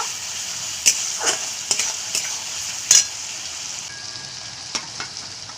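Onion, ginger and garlic paste frying in oil while being stirred, a steady sizzle with sharp clinks and scrapes of a utensil against the pan, close by and free of talk.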